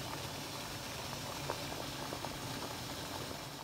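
Water at a rolling boil in a pot more than half full, set up for steaming bánh bèo, a dense steady bubbling and popping heard close up with no voices.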